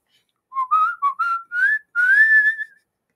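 A whistled melody of several short rising and falling phrases ending in one long held note, clear and close with no talking over it.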